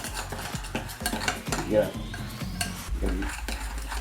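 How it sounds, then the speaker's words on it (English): Cookie dough being mixed in a bowl, with repeated thick scraping and thudding strokes of a utensil against the bowl in a steady rhythm, close and fairly loud, with no talk. "you're gonna mix it together"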